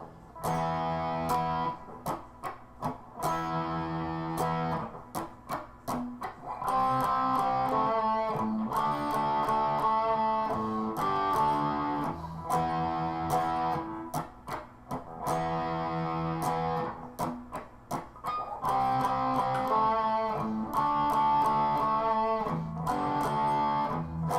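Distorted electric guitar power chords chug in a repeating riff, strummed rhythmically with short pauses between phrases, loud and close.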